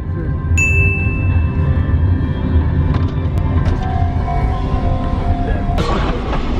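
Train rolling along an old coastal railway in Japan, a steady rumbling roar with occasional high squeals and clanks, loud and close throughout.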